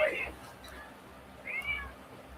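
A pet cat meows twice indoors, a short call and then a longer one a second later, with a person talking to it around the meows.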